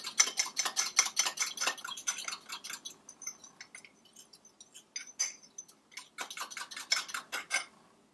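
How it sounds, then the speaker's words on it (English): A spoon stirs yeast and sugar with water in a bowl, producing rapid, bright clinks against the sides in quick rhythmic bursts, close up, with a brief lull in the middle before the clinking resumes. "Stir it up."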